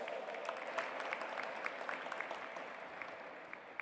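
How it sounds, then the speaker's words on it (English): An audience claps steadily at an interfaith summit, a fairly distant sustained round of applause with individual claps standing out, no talking. "Please welcome her with a big round of applause"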